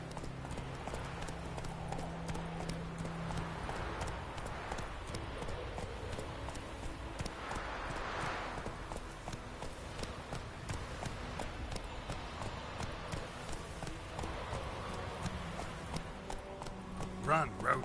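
Roach, a horse in The Witcher 3, gallops with rapid, continuous clip-clop hooves close by, under a speaking voice and game ambience.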